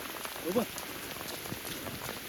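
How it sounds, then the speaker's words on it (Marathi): Steady heavy rain patters on a surface in a jungle at night, with a brief voice near the start. "हे बघा पाऊस जाम आहे"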